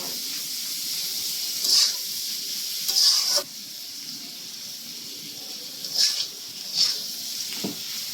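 Boiled vegetables, capsicum and cauliflower among them, tossed in a hot pan for quick noodles. A soft hiss runs throughout, broken by a few short bursts of stirring and scraping, close and without talk.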